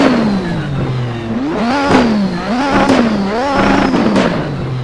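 A Lotus 98T Formula 1 car engine revs hard in Assetto Corsa, its loud, high-pitched note rising and falling in several sharp blips and sweeps, sustained throughout with no voices.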